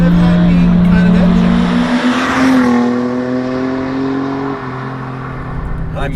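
A 1995 Mercedes C36 AMG inline-six pulls hard and revs up through the gears, a loud near engine note rising and shifting with steady tone bands, with voices talking over it.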